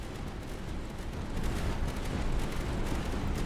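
Turrets firing in the tower defense video game Tower Dominion, a dense, continuous rumble of rapid booming blasts that swells slightly louder partway through, with no talk.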